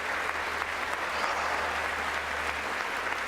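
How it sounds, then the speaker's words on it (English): Audience applause in the chamber during the 2019 State of the Union address, a steady, distant wash of clapping heard alone for a few seconds without talk. "who is clapping for that?"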